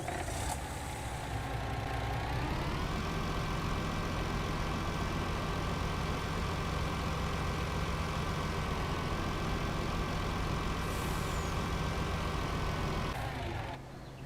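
A Case 400 tractor in Farming Simulator 19 hums at a steady low drone, its engine pitch rising once early and holding level before dropping away near the end, moderately loud and alone.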